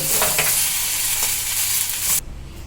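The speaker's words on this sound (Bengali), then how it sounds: "এবার এই টমেটো সসটাকে আমি সুন্দর করে মিশিয়ে দেবো" Tomato sauce being stirred into a cooked savory filling in a pan, with a steady sizzle and a scraping, stirring texture throughout, loud and close, cutting off abruptly near the end.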